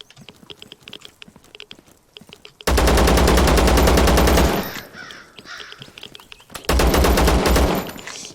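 Rapid automatic gunfire in the video game Zero Sievert comes in two loud sustained bursts of fast, evenly spaced shots, separated by quieter ambient clicks and rustles, with no talking.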